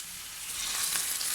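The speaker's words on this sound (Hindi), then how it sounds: "बघार लगा रही हूँ।" Hot desi ghee tempering with crushed cumin hits cooked dal, bursting into a loud, close hiss that swells and holds for about a second.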